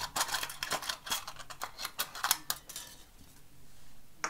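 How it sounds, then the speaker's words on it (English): Scissors snip small leaf shapes from scrap craft material in quick, irregular close clicks and crisp cuts, which thin out and fall quiet near the end. "I'm going to just cut some leaves"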